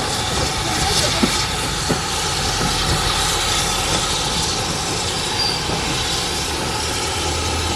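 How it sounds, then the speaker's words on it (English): A steam train arriving at a station, heard as a loud steady rumble of rolling wagons with faint wheel squeal and clatter, close by and continuous throughout. "Comes the train now, isn't it?"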